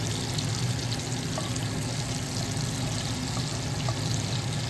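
Garlic frying in hot oil in a home kitchen, a steady dense sizzle and crackle running continuously at close range with no talk.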